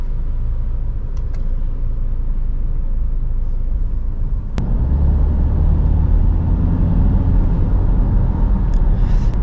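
A MINI Countryman facelift diesel engine drones in sport mode while driving, a steady low rumble from inside the car that grows fuller and heavier after a click midway.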